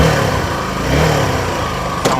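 Engine of a 2023 Suzuki V-Strom SX motorcycle while riding, a steady mid-pitched hum with slight rises in revs and a brief sharp knock near the end, no talk.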